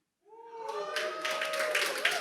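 An audience breaks into applause for an 86-year-old speaker on stage, steady clapping swelling quickly and holding, with a voice speaking over it at the start.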